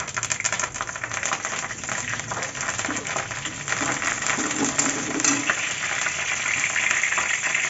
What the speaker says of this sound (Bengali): আমি ফোড়নে দিচ্ছি কারি পাতা।